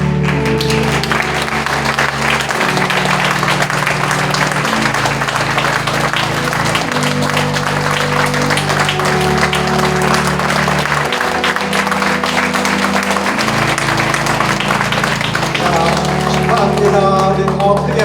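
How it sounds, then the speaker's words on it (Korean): A congregation at a Korean church's pastor installation thanksgiving service applauding steadily throughout, dense clapping layered over sustained music playing in the sanctuary. "우리 더 크게 박수 한번 주세요"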